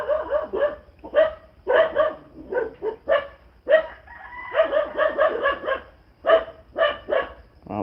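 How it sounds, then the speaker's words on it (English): Several dogs bark repeatedly at someone walking down a road, a fast irregular string of close, sharp barks in bursts with brief gaps, and no talking. "they're gonna bark at that poor guy walking down the road"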